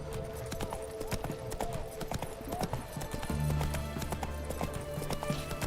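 Hooves of the horse Roach galloping in The Witcher 3, a rapid steady clip-clop rhythm, close and continuous, with a brief whinny-like tone and some game sounds underneath.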